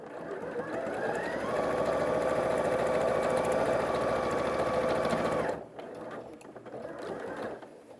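A sewing machine runs steadily and close, stitching a straight seam on a quilt block for a Winding Way curved-block pattern, then stops abruptly near the end, leaving quieter handling noise.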